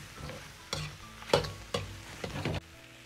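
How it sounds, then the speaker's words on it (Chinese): Pixian chili bean paste is stir-fried in a wok over lowered heat for braised lamb ribs: five or six distinct spatula scrapes over a low sizzle, close and fairly loud, with no speech. "稍微多翻炒几下，把豆瓣酱炒出颜色"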